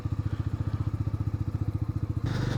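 A Bajaj Dominar 250 motorcycle idles up close with its exhaust throbbing in a fast, regular pulse, then the engine note steps up as the throttle opens near the end.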